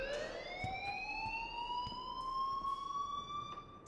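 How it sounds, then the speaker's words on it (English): A school alarm in the Life is Strange video game wails steadily, its rising tone holding loud and continuous for the full four seconds with no talk over it. "please turn off that alarm since that's your job"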